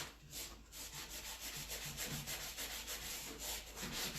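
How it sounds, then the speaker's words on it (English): Sandpaper rubbing back and forth over a painted wooden frame to distress the finish, a steady, close scratchy scrubbing that repeats in short strokes throughout with no talking. "So I'm going to sand it just a little bit more."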